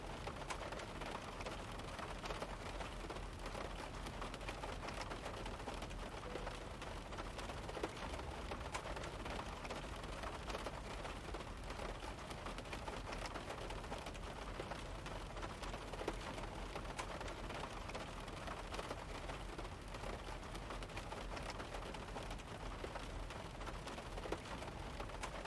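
Steady rain effect from a Zibo Mod 737 flight simulator flying circuits at Porto in bad weather, a continuous broadband patter of drops on the airframe, moderately loud and unbroken throughout.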